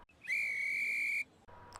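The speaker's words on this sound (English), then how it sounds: "Just then, his guard blew his whistle." A train guard's whistle blows one sustained shrill note of about a second, clear and fairly close, then quiet background follows.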